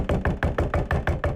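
Rapid, insistent knocking on a bathroom door, eight evenly spaced heavy thuds in quick succession, loud and close with no talking.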